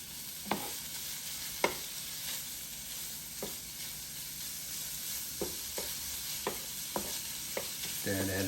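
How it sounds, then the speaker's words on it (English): Bacon fried rice sizzles steadily in a Power XL cooker while a utensil stirs it, with sharp scraping clacks at irregular intervals over the constant frying hiss. "So I'm just going to stir this up just like this."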